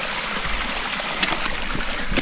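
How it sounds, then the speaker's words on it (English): Water rushes and burbles steadily in a mountain stream in the White Mountains, a broad continuous wash close by with no voices. "there's no shortage of water"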